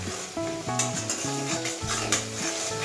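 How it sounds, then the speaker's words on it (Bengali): Spice masala for chana paneer sizzles in a pan while being stirred, a steady frying hiss broken by repeated scraping and knocking of the spoon against the pan in a quick, uneven rhythm. "2 থেকে 3 মিনিট মশলা কষিয়ে নিয়েছি"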